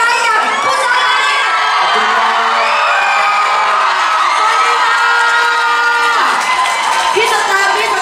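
An audience at a Thai entertainment show screams and cheers for a male performer, with loud, shrill overlapping shrieks and whoops close up that rise and fall in waves.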